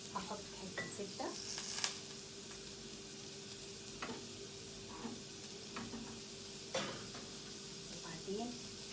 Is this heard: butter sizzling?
yes